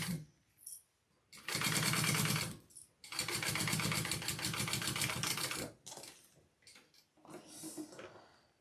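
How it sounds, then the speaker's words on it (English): Home sewing machine stitching a clutch bag with its bobbin running low: two sustained runs of fast, buzzing mechanical whir separated by a short pause, with quieter starts and stops and faint handling noise around them, fairly close. "Sounds like my bobbin's almost out."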